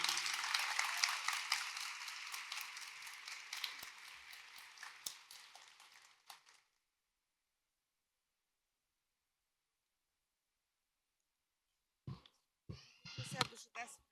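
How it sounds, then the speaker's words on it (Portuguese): Applause from a seminar audience welcoming a speaker comes in as dense clapping that fades over about six seconds into silence, then a few brief noises near the microphone follow. "Vamos receber com muitos aplausos a professora Léa Tiriba."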